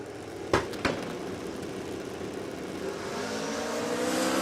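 Drag racing car launching at Warwick Dragway, Australia: two sharp cracks, then a hard, rising engine roar that climbs in pitch as the car pulls away down the strip.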